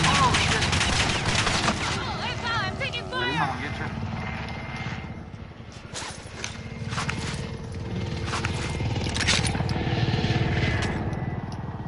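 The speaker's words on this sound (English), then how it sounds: "Oh, I'm taking fire!" Gunfire crackles in a military shooter video game, with repeated bursts and scattered shots under steady helicopter rotor drone, while a player talks over much of the action.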